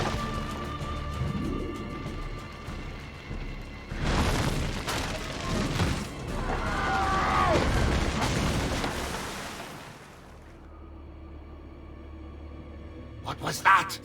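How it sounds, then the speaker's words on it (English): Firecrackers pop in the Assassin's Creed 2 game world, a burst of crackling blasts and booms that rises for several seconds, then fades, with game voices speaking around it and a few more sharp pops near the end. "Probably just kids with firecrackers."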